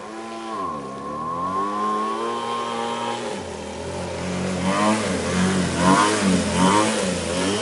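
An air-cooled outboard motor pushes a V-hull boat along a river, its engine note wavering and dipping as it bogs, then climbing and straining louder, heard close and with no talk.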